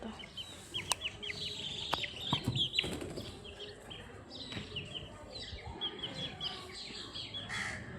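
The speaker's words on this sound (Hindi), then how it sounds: "इसकी बड़ी चीखें निकल रही हैं बड़े मुर्गे की।" A large rooster screams and squawks in repeated harsh, loud bursts over a busy outdoor background, with faint voices nearby.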